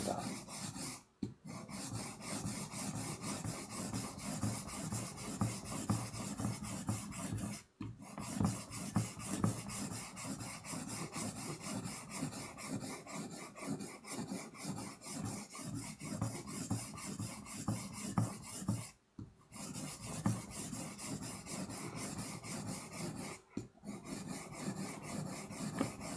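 A kitchen knife is stroked back and forth over a 1000 medium-grit whetstone in a steady, continuous rasping rhythm, close up, with a few brief pauses between passes and no talking.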